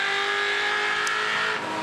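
A Ford Mustang touring car at a circuit race, its engine screaming at high revs in a sustained, loud, close roar with a brief sharp squeal near the middle.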